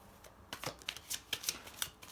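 Tarot cards shuffled and handled close up, a quick series of soft riffling slaps and papery flicks in short bursts, with no voices.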